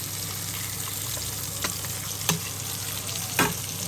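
Veal sweetbreads frying in butter in a pan, sizzling steadily up close, with a few soft clinks and scrapes as the butter is spooned over them. No one speaks.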